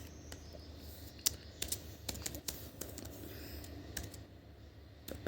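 Quiet, irregular clicking of a computer keyboard as code is typed into an editor, keystrokes tapping in uneven bursts over a low background hum.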